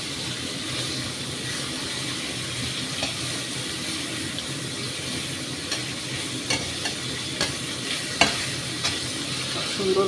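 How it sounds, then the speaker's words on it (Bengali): Green plantain frying in a pan with salt, a continuous close sizzle overlaid with scraping stirring strokes and a few sharper clinks of the utensil, no talk. "একটু ভেজে নিচ্ছি কাঁচকলাটা।"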